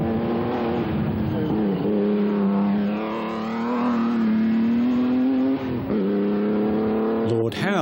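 A historic racing car engine drones and revs on a circuit, its pitch rising and falling as it passes nearby, loud and sustained with a narrator speaking over it.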